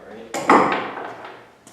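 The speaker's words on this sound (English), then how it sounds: "since this is just a rubber mallet, I can really gently tap it" A rubber mallet taps gently on a part of a Brinly plow being taken apart for restoration, giving one soft close knock followed by a fading ring, with no talk.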